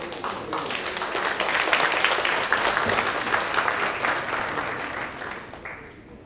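An audience at a conference session applauds a group, dense sustained clapping that swells in the middle and thins out toward the end.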